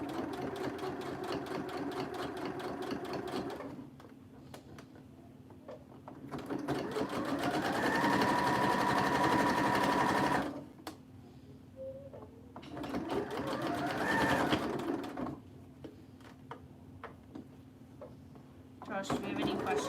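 A sewing machine runs top stitching across the bottom edge of a fabric face mask, in three sustained motor bursts separated by short pauses, loud and close.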